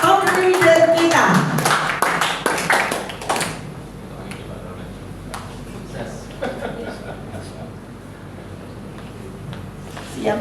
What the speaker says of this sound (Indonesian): Beri tepuk tangan yang sangat meriah buat top leader kita.